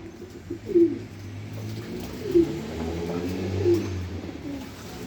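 Pet pigeons cooing nearby in a loft: low, soft, rolling coos repeat through the stretch, with a few louder calls standing out and other birds murmuring faintly in the background.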